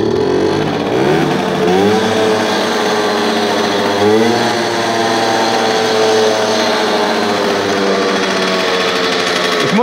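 Motorcycle engine while riding, a loud close steady drone with repeated rising and falling rev sweeps as the throttle changes, with constant wind rush and no talking.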